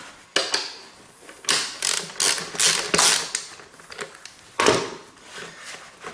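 Ratchet wrench clicks while bolts are removed during a temperature sensor replacement on a BMW E46 3 Series, coming in several bursts of close, sharp ratcheting with quiet gaps between them and no talk.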